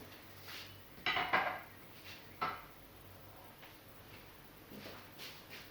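A metal keg part is set down in a sink, giving a few quiet clanks and knocks of metal on steel, with one louder clatter early on and softer bumps afterwards.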